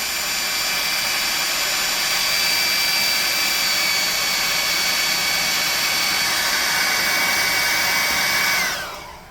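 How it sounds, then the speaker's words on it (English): A hand-held blower drying a coat of Mod Podge on a model worm makes a steady, loud whooshing whine that holds evenly for several seconds, then cuts off and winds down at the end. "I hit it with some air, dry it up real quick"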